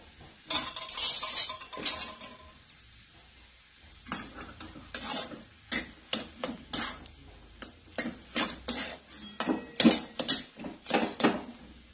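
A spoon stirs a thick pakoda batter mixture in a pan, clinking and scraping against the metal in quick, irregular strokes that grow busier toward the end, close up with a faint sizzle beneath and no talking.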